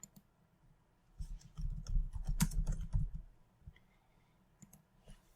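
Rapid bursts of keystrokes on a computer keyboard at a desk, a dense run of close clicking in the middle with sparse taps before and after, quiet and without talk.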